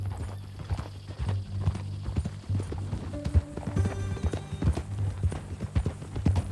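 Horses trot in the Red Dead Redemption 2 video game, a steady run of hoof clip-clops close by alongside a soft low hum, with a brief whinny-like tone midway and no one speaking.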